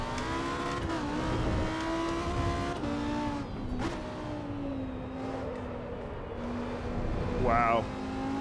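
A race car engine in Assetto Corsa EVO revs steadily with a rising and falling pitch, fairly close and loud, while someone talks over it.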